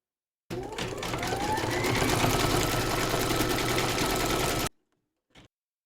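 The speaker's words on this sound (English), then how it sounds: "Pop your hoop into your machine and stitch round number 7 to secure it." An embroidery machine stitches round number 7 on a hooped gift card holder, a steady loud mechanical whirr that runs for about four seconds with a rising pitch before it stops abruptly, followed by a brief faint click.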